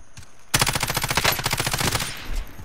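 Automatic weapon fire in Modern Warfare Warzone: a loud, rapid burst of about fifteen evenly spaced shots lasting roughly one and a half seconds, preceded by a faint shot and followed by a brief quiet tail.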